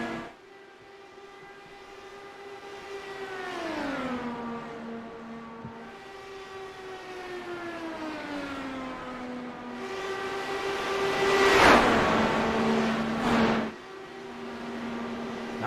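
Dallara IR18 IndyCar racing cars in a video game race at Kansas, engine notes droning steadily with pitch sweeps as cars shift and pass, one louder car surging close and sliding by mid-way, with no talk.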